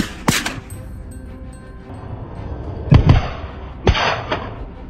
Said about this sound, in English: As gunfire erupted, the prey scattered in a frenzy.